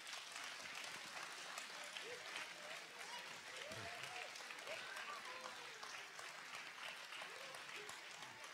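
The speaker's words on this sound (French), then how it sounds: "C'était mouvant, les applaudissements." An audience at a mayor's New Year wishes ceremony for the townspeople of Livron-sur-Drôme claps steadily throughout, a dense, sustained round of applause, with faint voices murmuring underneath.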